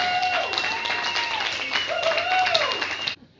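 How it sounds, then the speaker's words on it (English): A crowd applauds the barbecue organizers in a short round of clapping and cheering, with a voice calling out over it and a sliding tonal sound running through, stopping abruptly near the end. "how about a good round of applause for the barbecue organizers?"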